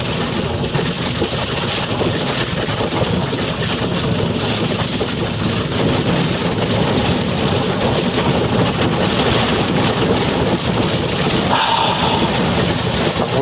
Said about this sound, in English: lot of rain. It's like a hailstorm,